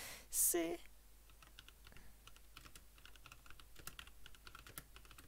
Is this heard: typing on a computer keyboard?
yes